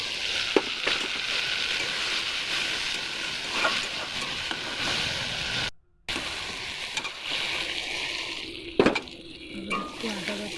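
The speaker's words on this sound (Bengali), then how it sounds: "এরপর কড়াইতে সাদা জিরে, টমেটো, আদা বাটা দিয়ে ভালো করে নাড়ব।" Cumin, tomato and ginger paste frying in a wok, a steady sizzle with occasional spatula stirs and clinks, and a brief cut to silence midway.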